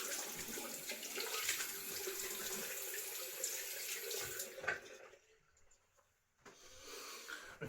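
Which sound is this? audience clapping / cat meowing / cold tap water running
cold tap water running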